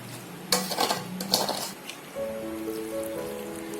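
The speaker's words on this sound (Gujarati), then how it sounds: "હવે એને બરાબર આપણે હલાવી નાખીએ" Sugar syrup is stirred in a pot while raw mango murabba is made: a few clinking scrapes of a spoon against the metal sides, then a quieter stretch with a faint steady hum underneath.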